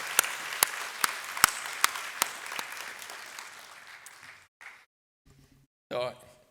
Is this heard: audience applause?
yes